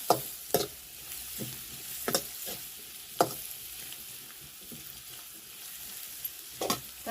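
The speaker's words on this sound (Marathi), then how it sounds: "तर आता कारल्यामध्ये मिक्स करून घेते मी" A fried mixture of spices sizzles in a pan and is stirred into bitter gourd curry. Occasional sharp clinks of the spoon against the pan sound over a steady sizzle close by.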